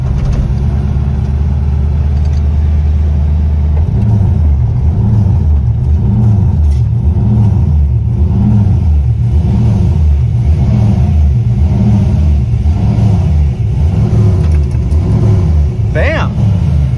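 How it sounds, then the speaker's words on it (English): A Nissan 240SX S13 with an LS V8 engine swap downshifting and then accelerating from inside the cabin, a loud deep engine drone that rises in steady pulsing revs, with a voice speaking over it. "Downshift to third."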